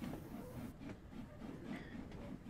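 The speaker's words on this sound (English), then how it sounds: "We're setting our train back into St Ives now." Steam train on a West Coast local line heading back into St Ives, a faint rhythmic rumble and clatter of the carriages rolling along with a quiet chuffing beat, heard at a distance.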